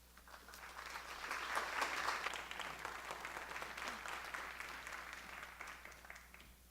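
An audience at a faculty-led panel on genetics applauds to welcome the panelists, a soft, fairly distant clapping that swells early and then holds steady before tapering off.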